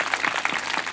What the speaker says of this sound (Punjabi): ਇੱਕ ਤਾੜੀ ਮਾਰ ਦਿਓ ਯਿਸੂ ਦੇ ਲਈ,